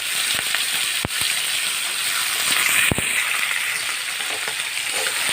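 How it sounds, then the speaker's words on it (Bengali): Thin-cut strips of ivy gourd (kundri) frying in a pan, a steady dense sizzle with faint stirring scrapes and a couple of sharp clicks, close and continuous with no talk. "এই যে কুঁদরোইগুলোকে সামান্যভাবে একটু ভেজে নেব"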